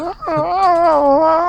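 A dog whines steadily in long, wavering high-pitched cries from behind a closed gate, loud and close, alone for about a second and a half.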